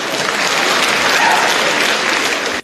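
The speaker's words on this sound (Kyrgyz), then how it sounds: "бир жакшылап кол чаап койсоңуздар" An audience at an indoor gathering breaks into dense, loud, sustained applause, many hands clapping at once, ending abruptly.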